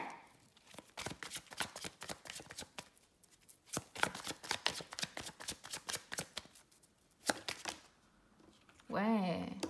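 Tarot cards handled and laid down on a table, a quick run of crisp flicks and soft slaps in an irregular rhythm, close and fairly faint, ending with a brief voice.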